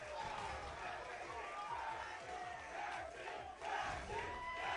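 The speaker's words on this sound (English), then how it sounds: "This crowd is going crazy right now" A crowd at a Street Fighter 6 tournament roars and shouts without letup, a dense wall of cheering voices with excited yells rising and falling throughout.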